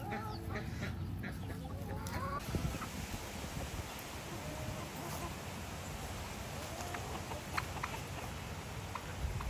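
A backyard chicken by a coop clucks in short, scattered bursts, moderately close, over outdoor rustling and patter, with other birds about.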